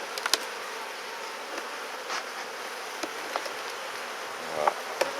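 Steady buzzing of many bees around hive frames as a beekeeper works the hive with a smoker, a dense continuous drone close by, with occasional clicks and knocks of the frames and tools.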